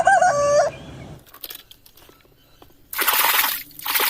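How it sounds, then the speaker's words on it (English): A cartoon rooster crows once, loud and clear, in a children's dinosaur world video game, followed by scattered soft game clicks and then a burst of bright, noisy sound effects. "Yes, guys, is another rooster."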